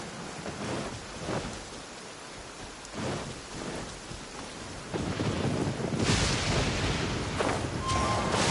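Heavy rain pours steadily in a video game thunderstorm while low thunder rolls and rumbles, and the downpour swells louder in the later part.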